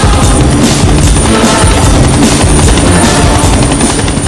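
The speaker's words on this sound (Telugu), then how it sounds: "helicopter sound" A helicopter's thudding rotor fills a dramatic movie scene, a loud, continuous beating drone with rhythmic pulses and steady hiss throughout, no speech over it.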